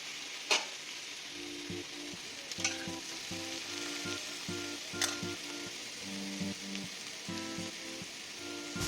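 Vegetables for a thin hilsa fish curry frying in hot oil in a pan, a steady close sizzle with scattered crackles and pops, stirred now and then, with no talk over it.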